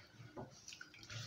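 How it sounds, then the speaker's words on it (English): A hand swishes and stirs an ingredient in a bowl of water while preparing fufu or amala, giving soft, faint, close sloshing and splashing sounds with no talk. "I want to put it inside this water and use my hand to"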